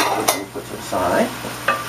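Whole orange and red peppers being stirred in a frying pan: a utensil scrapes and clinks against the pan over a steady sizzle, close up, with no talking.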